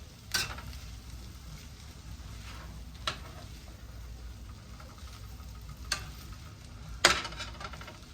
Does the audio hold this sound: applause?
no